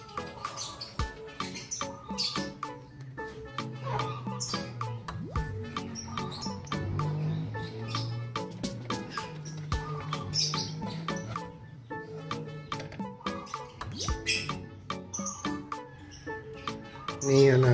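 Lovebird chicks, 24 days old, chirp and squeak in a wooden nest box, a close, busy stream of thin calls with occasional louder bursts and a low murmur of talk beneath.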